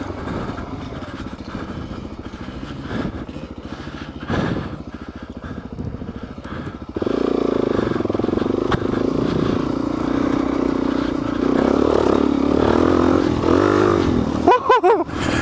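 An off-road motorcycle rides a rocky trail near Moab, the engine droning and clattering steadily, then rising louder and revving harder about halfway through, close to the rider.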